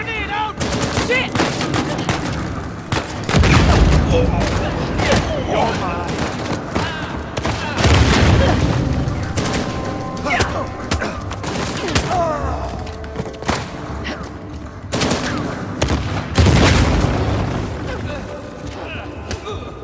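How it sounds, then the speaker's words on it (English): Grenade blasts and heavy gunfire in the Uncharted: The Lost Legacy video game, repeated loud booming thumps amid rattling shots and combat noise across the whole stretch, with a voice speaking at times. "Grenade out!"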